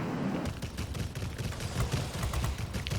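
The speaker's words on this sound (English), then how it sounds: "Little bit of lag on these cannons" Rapid aircraft cannon fire from a Fw 252 fighter in World of Warplanes rattles in a continuous dense burst over a heavy engine drone, loud and close, without speech.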